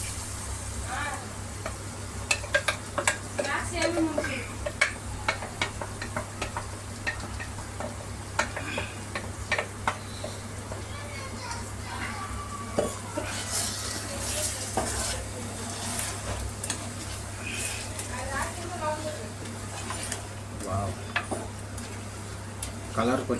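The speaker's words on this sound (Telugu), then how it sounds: "ఇప్పుడు మనము మిక్సీ పట్టే గోంగూర ఉంది కదండి, అది పెట్టేస్తున్నాము." Ground gongura paste stirred into chicken curry in a pan: a low, continuous sizzle with frequent sharp clicks and knocks of a utensil against the pot, fairly quiet and close.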